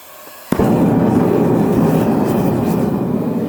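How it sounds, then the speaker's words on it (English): A Vevor two-burner propane forge catches with a sharp pop when lit by a propane torch, then both burners settle into a loud, steady roaring rush that carries on without a break. "So that's both burners running quite merrily."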